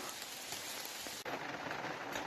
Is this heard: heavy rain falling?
yes